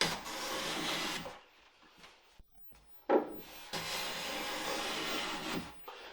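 A hand plane cuts across a wooden board in two long, rasping strokes separated by a quiet pause. The second stroke starts with a small jump before running smoothly, close and fairly quiet.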